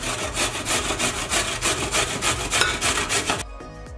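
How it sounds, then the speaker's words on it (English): A purple carrot rubbed against the side of a hand grater, giving steady rhythmic rasping strokes, close and loud, about eight passes before stopping abruptly. "With the side of the grater, we're gonna grate this carrot"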